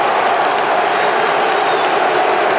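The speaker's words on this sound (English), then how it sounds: "Andy Booth takes the applause of those travelling fans" Travelling football fans applauding at the Stadium of Light, a dense, steady wash of clapping and crowd noise from a large stadium audience, loud and continuous throughout.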